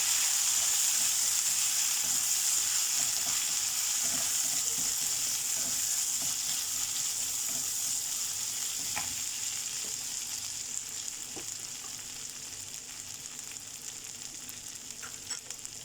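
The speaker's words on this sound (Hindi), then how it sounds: "अब इसे फ्राई करना है कि जिंजर गार्लिक का स्मेल खत्म हो जाए।" Ginger garlic paste fries in a pan with a loud, continuous hissing sizzle that gradually softens, with faint stirring ticks now and then.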